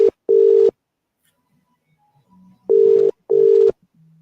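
Ringback tone of an outgoing telephone call that goes unanswered, sounding as steady beeping pairs with a gap between them, loud and close, and no talk over it.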